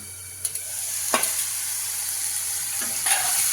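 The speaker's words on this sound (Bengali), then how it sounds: "আদা রসুন পেঁয়াজ বাটাটা একটু ঢেকে দিব।" Ginger, garlic and onion paste frying in a pan for prawn masala, a loud, steady sizzle with a few sharp scrapes and taps of a spatula, and a brief hiss burst near the end, with no talking.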